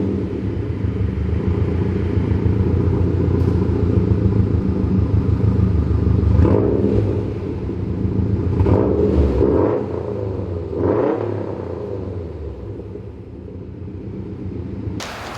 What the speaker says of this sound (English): Everybody talks about that Boxer rumble and how good it is.